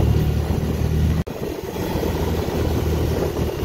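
A motorcycle rides along a hill road in Nepal's Chautara area, heading uphill toward a ridge. Its engine gives a steady, close drone mixed with road and wind noise, with a brief dropout early on.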